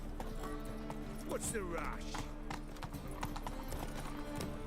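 Roach, the horse in The Witcher 3, gallops in a quick, rhythmic clip-clop close by, with a brief whinny, while a voice speaks over the hoofbeats.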